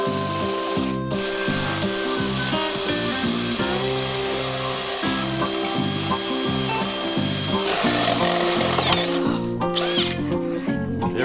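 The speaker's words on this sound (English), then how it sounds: "You ever heard of smoking a drill bit? I just did it." Power drill boring into wood, a close loud rhythmic grinding and whirring with repeating bursts of the motor labouring until the bit smokes, the pitch shifting near the end.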